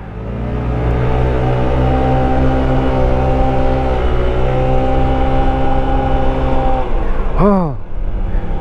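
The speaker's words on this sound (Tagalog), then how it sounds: "kahit scooter lang yung motor natin, nakakayang akitin yung mga ganito katataas na kalsada" A scooter motorcycle engine labours steadily up a steep mountain road in Kibungan, Benguet, a loud, sustained drone with a slight pitch rise, then a brief swooping whine near the end.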